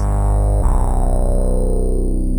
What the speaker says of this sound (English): we get this beautiful growling sound